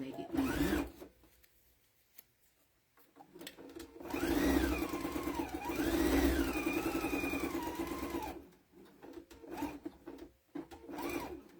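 A sewing machine stitching quilt-as-you-go blocks, a steady mechanical hum with rising and falling motor pitch over several seconds, in short and longer runs.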